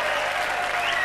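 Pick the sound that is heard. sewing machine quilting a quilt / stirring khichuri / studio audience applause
studio audience applause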